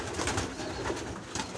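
A female homing pigeon gives soft, low, repeated cooing close by, quiet and unaccompanied by speech.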